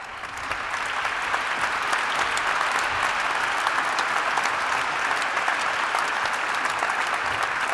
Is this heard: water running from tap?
no